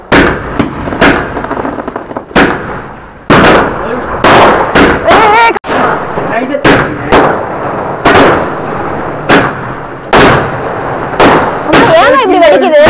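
A 60-shot firecracker goes off in a rapid string of loud bursts, sharp cracks repeating in quick succession with brief gaps, some followed by whistling crackle, with voices between.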